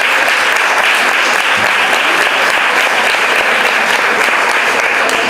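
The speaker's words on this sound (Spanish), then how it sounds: "Fuerte aplauso." Loud, sustained applause from a conference audience after the introduction of a lecture on the San Roque station and Gibraltar smugglers, with thick, even clapping and no gaps.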